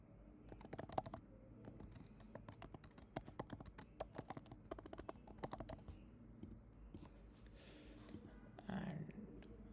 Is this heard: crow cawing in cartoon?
no